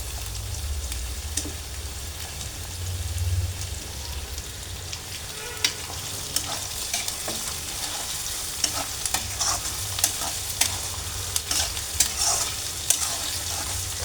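Dried fish and leafy greens frying in oil while being stirred, a steady close sizzle with scattered scraping and clicking stirs throughout.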